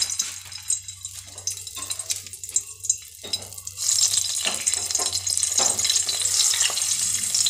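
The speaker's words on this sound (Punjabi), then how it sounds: "ਹੁਣ ਆਪਾਂ ਇਕੱਲੀ ਇਕੱਲੀ ਟਿੰਡੋ ਨੂੰ ਤੇਲ ਦੇ ਵਿੱਚ ਰੱਖ ਦਿੰਦੇ ਹਾਂ" Stuffed round gourds (tinda) set one by one into hot oil: soft handling clinks and scrapes at first, then a loud, steady sizzle of frying that takes over and holds.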